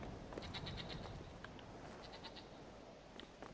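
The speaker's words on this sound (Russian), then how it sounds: "Горные козлы" Mountain goats in the game Brothers: A Tale of Two Sons bleat faintly a few times over a soft, steady background hiss.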